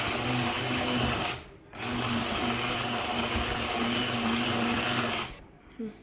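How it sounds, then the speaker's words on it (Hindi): A hand blender whirs loudly in bursts through cooked lentils, pausing briefly twice, its motor droning with a steady high-pitched buzz. "और अब मैं इसको हैंड ब्लेंडर से ब्लेंड करूंगी।"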